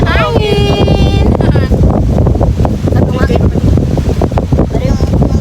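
Strong, steady wind blows by the sea, roaring across the microphone in a continuous rush, with voices and some tonal sounds mixed in.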